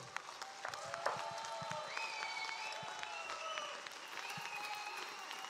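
An audience at a press conference applauds, a dense patter of clapping heard from a little distance, with some crowd voices and whistle-like tones mixed in.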